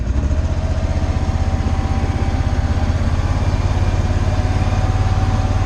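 A riding lawn mower runs close by while mowing grass along ditches beside a newly installed landscaping edge, its engine loud and steady with a rapid chugging pulse and no talk.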